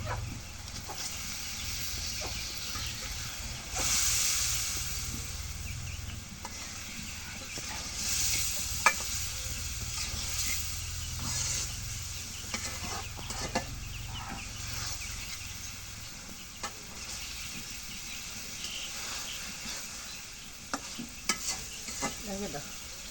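Fish dropped into spice-fried oil in a home kitchen, a faint continuous sizzle with scattered clinks and scrapes of stirring over about twenty seconds, with a rooster or fowl calling faintly in the background.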